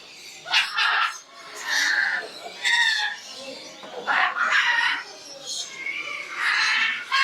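Several birds, including a crested one, call repeatedly nearby at Ramoji Film City, a mix of clucking and crowing-like cries in uneven bursts, fairly loud against a quiet background.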